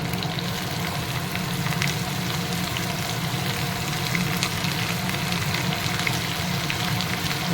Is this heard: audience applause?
no